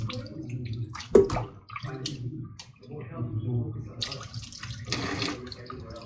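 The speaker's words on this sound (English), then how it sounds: "So I run a little bit of water, put it around just a little bit." Kitchen tap water runs in short bursts over raw meat being washed in a sink before marinating, splashing and trickling close by, with a person talking between the bursts.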